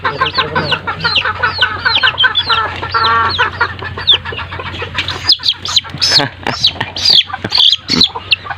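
Pet chickens clucking and squawking in a busy, noisy flock, rapid overlapping calls with sharper squawks toward the end, close and loud with no voices over them.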